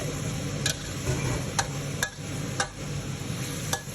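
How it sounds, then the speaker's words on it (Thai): Chinese kale being stir-fried in oil in a hot pan, a steady close sizzle broken by several sharp scraping clinks of a spatula against the pan at irregular intervals. "ก็ทอดไปเลยนะครับคั่วไปนะครับ"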